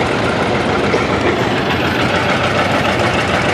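A restored 1959 John Deere 630 tractor runs at plow day, its engine giving a loud, close, continuous low rumble with steady chugging throughout.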